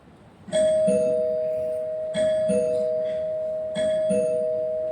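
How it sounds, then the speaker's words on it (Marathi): A doorbell chimes three times in a row, each ding-dong ringing out loud and clear while a steady tone lingers between presses. "अहो, बेल वाजतेय."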